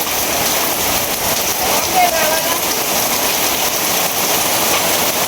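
Rain begins falling in a rural Bengali village, a steady broadband hiss of drops on surfaces that holds evenly throughout, with a faint voice briefly audible in the background.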